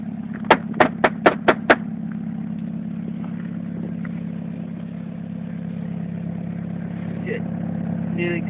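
A Honda car idles through a new exhaust with a low, steady hum, after a quick burst of six sharp clacks near the start and a few faint knocks later on.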